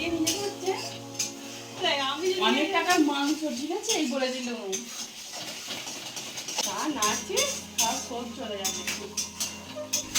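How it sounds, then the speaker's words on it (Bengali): Two people cook chicken with spices in a small wok, each working a spatula from opposite sides; metal clinks and scrapes sound under steady talking, with sharper clatter toward the end. "একটা ছোট কড়াইয়ের মধ্যে মশলা দিয়ে দুজনে দুটো খুন্তি নিয়ে দুদিক থেকে এইভাবে কারা রান্না করে"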